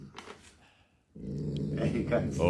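A dog growling, a low continuous rumble starting after a short quiet gap, with people talking over it.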